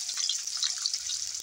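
Chopped onion and chilli frying in a pan, giving a continuous bright sizzle and crackle with a soft, even level throughout.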